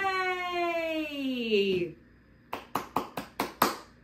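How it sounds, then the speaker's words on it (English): A wailing, siren-like voice glides downward, then after a short pause six sharp hand claps ring out in a steady rhythm, close and clear. "We're clapping our hands."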